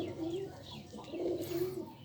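A female pigeon cooing close by in a soft, steady series of low throaty coos, with faint background noise and no talk.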